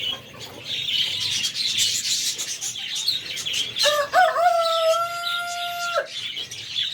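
Chickens and chicks in a bird-breeding setup give scattered chirps and peeps over a busy high-pitched background, then one clear, sustained tonal call rises out for about two seconds before breaking off.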